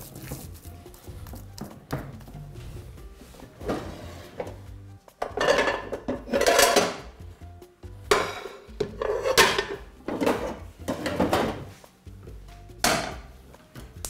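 A metal frying pan is set down on a gas stove among other kitchen clatter, with a series of loud, close knocks and scrapes of cookware against the burner grate.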